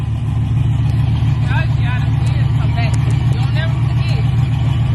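A car engine idles steadily with a low, continuous hum beneath excited voices talking nearby, beside a newly bought dream car given as a surprise gift to a wife.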